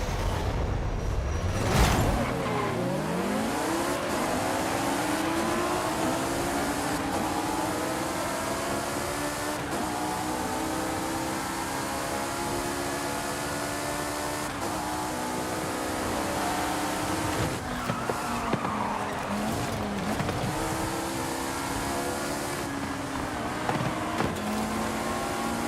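A red Ferrari in the Forza Horizon 5 racing game, its engine revving up and down through repeated rising and falling sweeps, with tire squeal, loud and continuous and with no talking.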